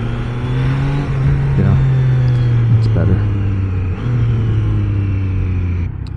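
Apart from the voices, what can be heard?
Triumph Trident 660 triple engine revving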